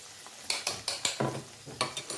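Spices with mustard paste frying in a pan for pickle, a soft sizzle punctuated by a rhythmic series of spatula stirs and scrapes, close and fairly quiet, no talking.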